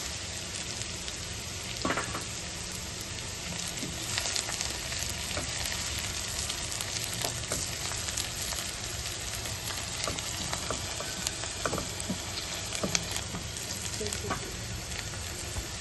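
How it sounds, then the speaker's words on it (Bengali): Oil sizzles steadily with a dense crackle as ginger and garlic fry, joined by occasional scrapes and stirring clicks from the pan. "তো এটা আদা রসুন এখানে ভাজা হয়ে গেছে।"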